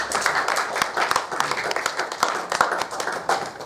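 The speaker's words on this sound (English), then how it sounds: "I feel like it's too late to say you don't have to clap in between each poem" An open-mic audience claps between poems. The applause is a dense, moderately close patter of many hands that stays fairly even throughout.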